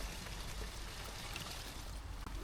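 Water poured from a container into a dry fence post hole, ahead of adding postcrete, making a steady, close, continuous rushing splash with no break and no talking.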